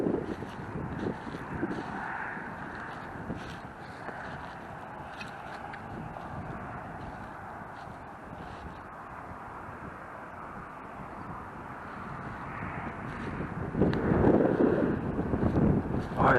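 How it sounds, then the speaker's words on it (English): Wind buffets an action camera microphone outdoors, a steady broadband rumble and roar that swells louder toward the end, with no speech. "that darn wind is really blowing today"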